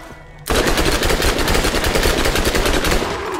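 Rapid automatic gunfire from the video game Borderlands starts abruptly and carries on loud and steady, a dense stream of shots with no pause.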